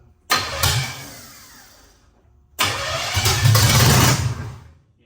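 A hot-rod-built 327 Chevy V8 cranks and catches twice, each burst firing up loudly then fading away, the second run lasting longer with a rougher, louder surge before dying down.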